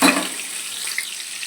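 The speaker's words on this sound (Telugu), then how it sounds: "ఇప్పుడు పన్నీర్ అందులో వేపుకుంటాం." Paneer cubes frying in a pan of ghee and oil, giving a steady, close sizzle that holds at an even level throughout, with no talking.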